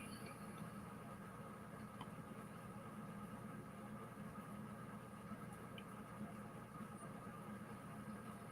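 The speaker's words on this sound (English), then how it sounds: "We got a tractor here with a rotiller on the back of it." A tractor with a rototiller mounted on the back idles steadily, giving a faint, continuous low engine hum that stays even throughout with no talking.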